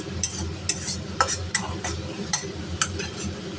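Mashed taro sizzling in a pan while a spoon stirs it, with a soft steady fry hiss under a series of sharp scraping clicks of the utensil against the pan.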